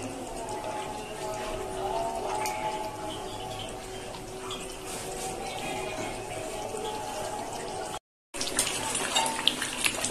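A pot of Bengali-style chicken curry with potatoes simmers at a steady boil, giving off a continuous bubbling, watery hiss that breaks off for a brief moment near the end and then resumes.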